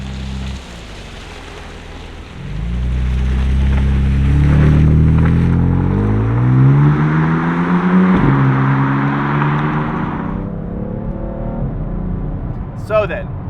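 A BMW F80 M3 pulls away and accelerates close by, its engine note rising through several gear changes with a brief dip between shifts before settling into a steady cruising hum; a voice speaks briefly near the end.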